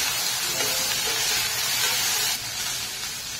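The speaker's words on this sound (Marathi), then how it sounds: "मटार, बटाटा, गाजराचे तुकडे, फ्लावरचे तुरे, या सगळ्या भाज्या छान अशा तेलामध्ये परतून घेतले" Peas, potato, carrot and cauliflower florets sauté in hot oil in a pan, giving a soft, steady close-up sizzle and hiss.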